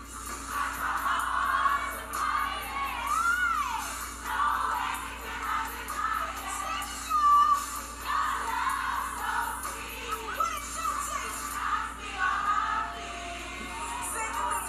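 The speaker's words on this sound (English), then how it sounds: "That's legendary when you have the entire crowd singing your song back to you, all in unison." A concert crowd sings a song together in unison, a dense wash of many voices with whoops and cheers rising through it, steady and loud over the whole stretch.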